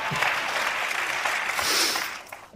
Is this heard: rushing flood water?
no